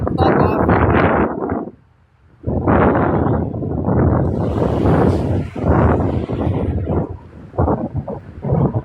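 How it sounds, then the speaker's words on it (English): Heavy wind buffeting an outdoor microphone in loud, rumbling gusts that come and go, with a brief lull in between and the roar dropping and rising again. "The wind is pissing me the fuck off."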